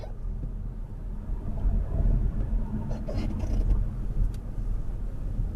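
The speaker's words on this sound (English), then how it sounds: "Ah, there's a car." Car engine rumbling steadily on a narrow UK country road, a low continuous drone that swells slightly as the vehicle draws nearer, heard alone without talk.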